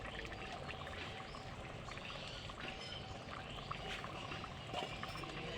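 Ghee poured into a pot of simmering fish-head and gobindobhog rice muri ghanta, a steady wet trickle over broad continuous bubbling with no talk.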